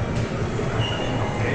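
Rumbling rail noise of a passing Las Vegas monorail train with a faint high squeal, steady and fairly close, with voices faintly mixed in.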